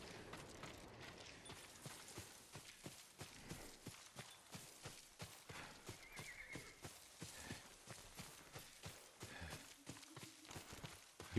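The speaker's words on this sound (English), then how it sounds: "Yuriko's horse. She can't be far." Horse in the video game Ghost of Tsushima walks with steady, rhythmic clip-clop hooves and snorts and whinnies, fairly quiet and close, with no talk.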